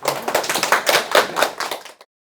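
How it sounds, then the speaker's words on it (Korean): An audience at a youth-leadership lecture claps together in a dense burst of applause for about two seconds, then stops abruptly into silence. "박수로 일단"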